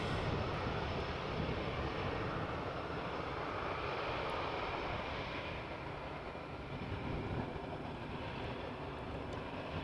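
An airplane departing Amsterdam Schiphol Airport passes overhead, a steady, loud broadband engine roar that holds throughout without fading, with no talk over it.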